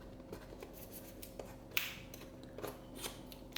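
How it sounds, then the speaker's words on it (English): Packaging for an Olight 3-in-1 pocket torch is torn open, giving soft scattered rips and crinkles with one sharper tear, close but quiet. "it looks like we open it by tearing that off"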